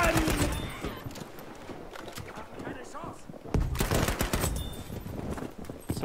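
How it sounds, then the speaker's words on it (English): Suppressed weapons fire in a video game as quick rattling bursts, followed after a lull by a louder flurry of shots. A player talks over the gunfire. "Suppressed weapons for the win!"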